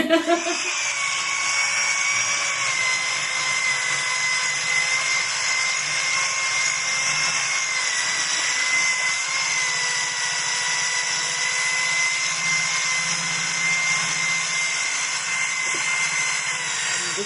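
A power sander works a wooden cutting board at 120 grit, producing a loud, steady whining drone that runs unbroken from start to finish.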